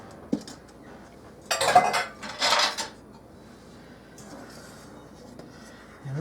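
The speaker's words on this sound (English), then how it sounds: "I'm going to blend that in, mix it all up with a fork" A fork mixes hot water into molasses, giving a couple of brief scraping, clinking strokes against a bowl followed by quieter faint rubbing.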